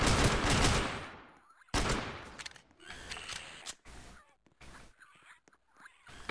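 Rapid gunfire bursts in the Headcrab Infection video game, loud and dense at the start, then broken into shorter volleys with gaps, occasional whispered or muffled voice.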